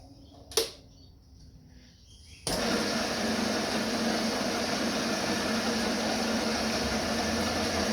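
After a quiet stretch with one short knock, a workshop lathe abruptly spins up into a loud, steady mechanical whir that holds to the end.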